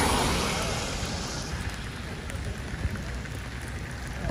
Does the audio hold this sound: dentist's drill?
no